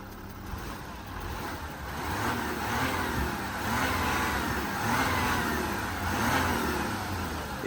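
Diesel engine of a Porsche Cayenne 958.1 revving steadily, a continuous mid-pitched drone that swells and eases in several gentle surges, heard close with no talk.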